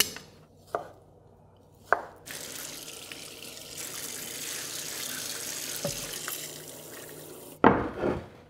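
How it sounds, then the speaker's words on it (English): A knife slicing partially frozen chicken into thin slices on a cutting board in a kitchen, with a few sharp separate cuts followed by a longer stretch of steady cutting or scraping, close and fairly quiet, with no talk. "And you wanna cut this about 1/8 to 1/4 of an inch thick."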